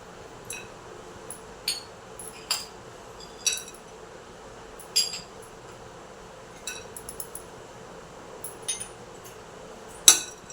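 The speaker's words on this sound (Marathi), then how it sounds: "मीडियम गॅसवर आपण सर्वात आधी ड्रायफ्रूट्स भाजून घेऊया" Dry fruits being roasted in a pan over a medium gas flame, heard as light, sparse clicks and scrapes of a utensil against the pan at irregular intervals over a quiet background, with a sharper clink near the end.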